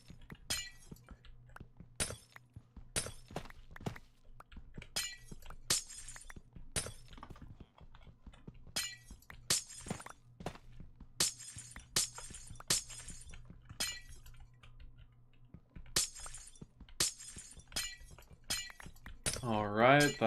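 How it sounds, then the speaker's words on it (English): Repeated sharp glass-shattering crashes from a video game castle-building session, roughly a dozen bursts spaced a second or two apart over a low steady hum, with a swirling effect near the end. "I love the glass breaking sound. Such a classic."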